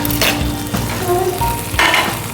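A thick piece of fish fries in a pan with a close, loud sizzle, broken by a few bursts of stronger hissing and faint clinks of cookware, no voices.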